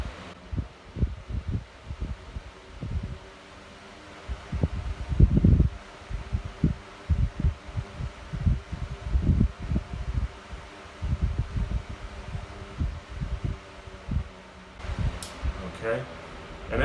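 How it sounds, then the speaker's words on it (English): A Smartele 16-inch battery-operated floor fan running at its maximum setting, a steady airy whoosh underneath a person talking throughout. "it's not going to be as fast as you would probably think for just a normal plug-in fan, but this is its maximum setting right here"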